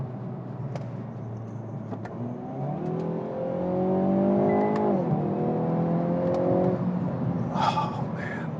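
Hyundai Veloster N engine heard from inside the car, revving up through rising tones as it accelerates hard, with a gear change and a brief crackle near the end, loud and steady.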